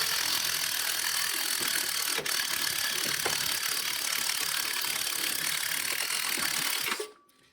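Ratchet wrench loosening a bottom suspension nut on a Suzuki Jimny during a lift kit install, a loud continuous rapid clicking close by that runs for about seven seconds, then stops abruptly.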